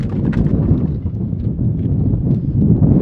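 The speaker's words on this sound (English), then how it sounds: "It's unbelievable how much I have to dodge the wind right now." Strong spring wind buffets the microphone outdoors on a fishing trip, a steady, loud low roar with gusty swells that runs the whole time, with no voices.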